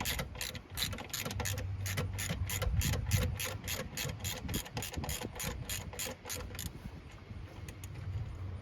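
A ratchet works loose a stud on a 2006 Chevy Silverado 1500 WT with a 4.3 engine, making a fast, even run of close, crisp clicks that stop abruptly partway through, with no speech.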